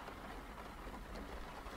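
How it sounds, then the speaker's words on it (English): Rain falls steadily as a dense, continuous patter and hiss that holds at an even level throughout, with no voices over it. "let's just enjoy the sound of the rain together,"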